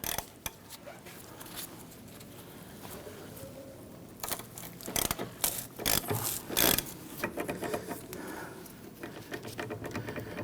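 Ratcheting and clicking of an Allen key loosening a rear brake caliper bolt on a 1999-2004 Jeep Grand Cherokee, close and irregular, with metallic clatter in bursts over workshop background.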